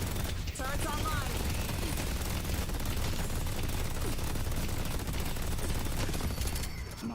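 Video game turrets firing in a continuous, dense barrage of rapid shots that holds steady and loud for several seconds, mixed with other game noise and a voice.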